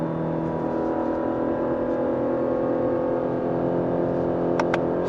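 A Lexus LS 500h hybrid engine revving through quick downshifts toward about 6500 rpm at around 100 km/h, a loud steady droning whine with a few brief high clicks near the end.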